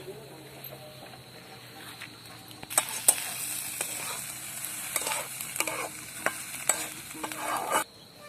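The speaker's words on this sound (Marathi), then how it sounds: "तोपर्यंत कांदाही तळून होईल" Onion fries in a pan with a low, steady sizzle, joined by sharp clinks and scrapes of stirring that grow busier partway through, close by.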